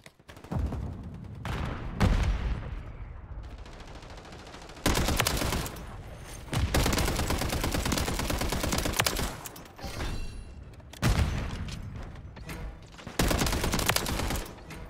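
Rapid bursts of MTZ 762 rifle fire in Call of Duty MW3, loud close automatic volleys separated by short pauses, with sharp crackling impacts throughout.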